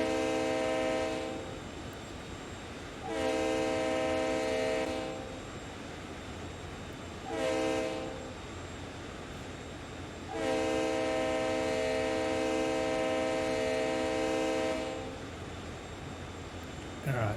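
Freight train under dynamic and train braking, with a horn sounding in four long blasts of differing length over a steady rolling rumble, the horn loud and close, no talking.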